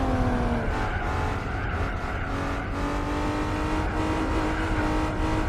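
A TVR Speed 12 racing in Gran Turismo 4 gives a loud, steady engine roar that holds at high revs with a rising tone, sustained and close throughout.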